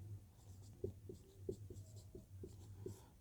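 Chalk or marker writing on a board during a geometry lesson on triangles, a series of short taps and strokes in a steady rhythm, close and fairly quiet over a low hum, with no talking.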